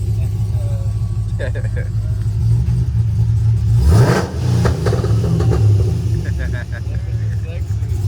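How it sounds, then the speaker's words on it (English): A car engine revs up once in a parking-lot setting, a deep throaty swell that peaks and falls back under a steady idle. People talk over it. "Hey, rev it. I'll rev it right now."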